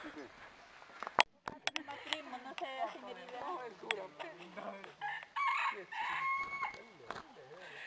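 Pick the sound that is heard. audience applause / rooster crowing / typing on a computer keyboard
rooster crowing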